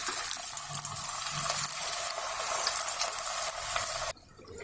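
Cabbage pakora shaped by hand fries in hot oil in a pan, giving a steady, close, bright sizzle that runs unbroken and then cuts off abruptly near the end.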